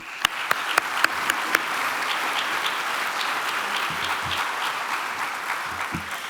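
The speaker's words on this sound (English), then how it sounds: "Help me give them a great round of applause" A crowd at the City of Brownsville State of the City 2024 event breaks into sustained applause, a dense wash of clapping that opens with a few sharp individual claps and then settles into an even, continuous roar.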